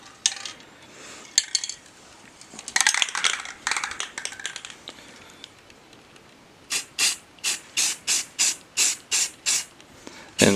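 Aerosol spray paint misted onto a giant 7-inch Warhammer 40K Chaos Space Marine miniature, irregular hissing spurts at first, then a run of about nine short, evenly spaced bursts, close and fairly loud.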